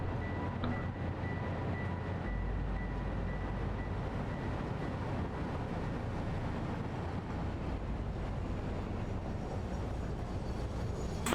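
A train in the video game Satisfactory rolling along its track, a continuous low rumble with steady rushing noise throughout, no voices.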